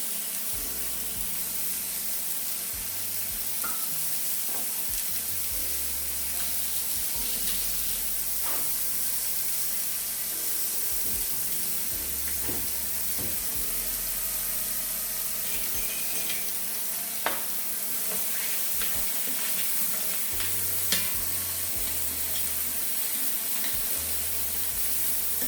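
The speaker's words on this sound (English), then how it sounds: "Okay, I just flipped the steak. We're gonna throw in our onions." Peppercorn-crusted New York strip steak and onions frying in a pan, a steady close sizzle and hiss running throughout with occasional stirring clinks, no talking.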